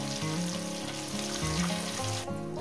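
Pieces of rohu fish frying in hot oil, a continuous loud sizzle with steady crackle and occasional clinks from stirring.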